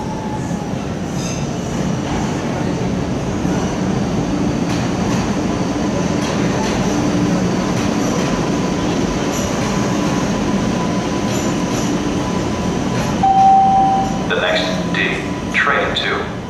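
Green Line light rail cars rumble along the track with a steady, loud, close roar, an occasional faint squeal, and a short tone near the end, with people talking over it.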